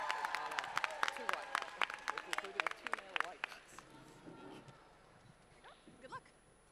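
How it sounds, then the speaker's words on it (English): Scattered applause for the final affirmative speaker at a student debate showcase, where a modest audience claps unevenly with sharp individual claps. The clapping thins out over several seconds into a murmur with some talk in the room. "can we give a huge round of applause to the last speaker for the affirmative team"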